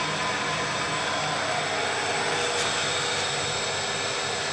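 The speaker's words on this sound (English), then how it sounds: "After that we will start the pump." Pump running in a free vortex flow apparatus, a steady broadband whir and hum held at constant level with no speech.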